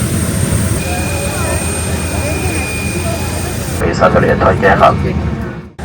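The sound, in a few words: airplane engine while boarding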